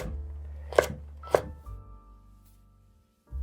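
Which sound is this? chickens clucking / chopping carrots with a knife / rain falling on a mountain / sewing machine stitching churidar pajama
chopping carrots with a knife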